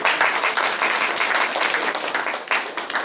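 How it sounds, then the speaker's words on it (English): Dense, loud applause from a crowd at the FIAV Sports Day in April 2015, welcoming a speaker. Many hands clap steadily and close by for about three seconds without letting up. "So please give Vasant a big round of applause."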